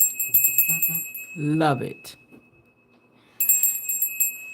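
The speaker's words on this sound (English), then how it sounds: "I found a root chakra meditation bell." A root chakra meditation bell rings with a bright, sustained metallic tone, fading as someone speaks over it, then struck again near the end and left ringing.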